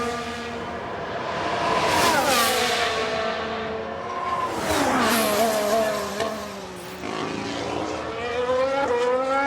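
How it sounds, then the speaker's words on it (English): Race cars in F1 Manager 22 scream past on track during a crash, engines rising and falling in pitch as several cars pass close by one after another, loud and continuous with no talking. "We've just had a crash on the track."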